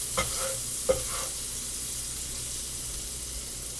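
Garlic sizzles in grease in a very hot pan, a steady close hiss broken by two quick clinks of a utensil near the start.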